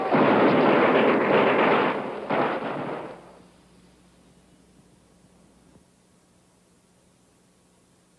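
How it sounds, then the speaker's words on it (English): Heavy gunfire in a television war drama: a loud, dense roar of shots for about three seconds, with a brief dip partway through, then fading quickly into a faint, steady background hum. "Too much firing. Much too much firing."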